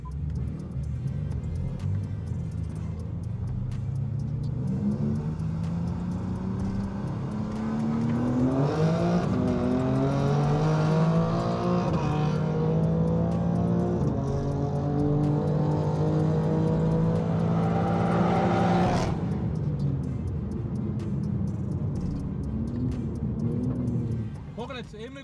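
A tuned BMW M3 G80 running a Stage 1 tune of about 625 horsepower accelerates hard on a track test drive, its engine note climbing steadily through the gears, loud and close, before easing off near the end.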